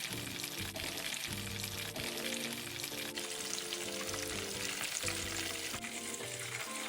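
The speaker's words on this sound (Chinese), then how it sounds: "然后直接放入热油锅内油炸。" Taro shrimp fritters deep-fry in hot oil with a loud, steady, dense sizzle that lasts the whole stretch. Faint utensil noises come through underneath, and there is no talking.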